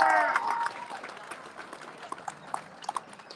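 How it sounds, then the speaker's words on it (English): A crowd at an anti-Protocol rally cheers and claps after a short burst of a voice, with scattered claps and shouts continuing at moderate loudness to the end. "Give him a big cheer, and well done to him."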